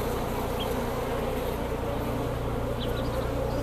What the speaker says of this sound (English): a bee got pinched there somewhere, and you can see these bees are getting upset